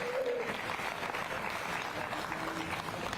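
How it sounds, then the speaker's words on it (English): A crowd applauds at a county fair steer show in Knox County, giving a steady round of clapping, moderately distant, with faint voices and a brief tone in the background. "let's give these young people another round of applause"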